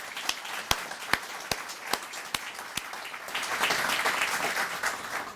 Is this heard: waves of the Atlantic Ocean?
no